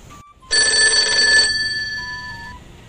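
A telephone rings as a call is placed to a cousin: a bright electronic ring bursts on loudly for about a second, then fades into a softer lingering tone, with no voices over it.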